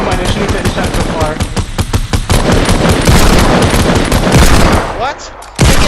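Rapid, loud gunfire in the video game Fortnite, dense bursts of automatic shots in quick succession, near and continuous, with a brief dip before a final shot.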